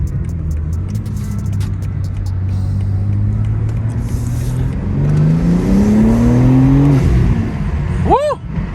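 A BMW M4 G82 with a loud aftermarket exhaust accelerates on a highway, its engine note climbing steadily through the gears with a rising drone, heard close from the cabin with windows down, ending in a quick sharp rev burst.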